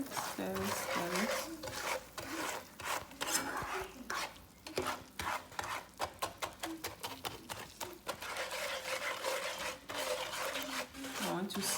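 Peanut brittle sugar syrup stirred in a pot over lowered heat, a close, rhythmic scraping and rubbing of a spoon against the pan, with a voice talking intermittently over it.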